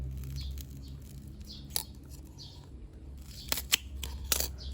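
Shallots are cut in half with a few sharp, crisp slicing snaps, one early and a cluster near the end, over quiet background chirps.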